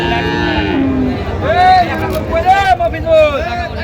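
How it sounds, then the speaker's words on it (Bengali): Cattle, Friesian and crossbred bulls and calves, moo repeatedly in long, drawn-out calls over a busy crowd at a Dinajpur, Bangladesh livestock market, with people talking nearby throughout. "আমরা দেখছিলাম এই গরুটি"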